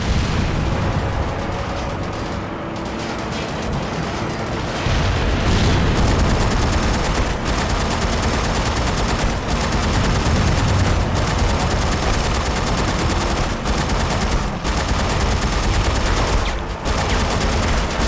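Dense, continuous gunfire and explosions from the shooter game Haze, with rapid overlapping shots and heavy booms filling the whole stretch at a loud, steady level.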